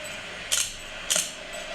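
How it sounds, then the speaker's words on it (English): Two quick mechanical camera shutter clicks about half a second apart, crisp and close, with no talk over them. "That's a camera."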